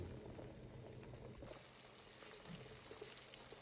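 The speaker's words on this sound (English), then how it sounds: "It's boiling very rapidly." Melted butter cooking down into ghee boils rapidly in a pot, a faint, steady bubbling and crackling hiss that continues without pause.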